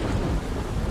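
Heavy rain and a low thunder rumble during a storm, a steady broadband wash with deep rolling energy underneath, continuous and fairly loud throughout with no voices.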